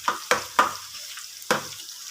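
Peanuts frying in oil are stirred in a pan, giving four crisp scraping clatters close by, three in quick succession and one after a pause, over a faint sizzle.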